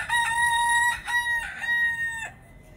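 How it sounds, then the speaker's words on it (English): A farm rooster crows loudly and close by in a few drawn-out, wavering calls, ending with a brief drop near the close. "Do we get a cock-a-doodle-doo?"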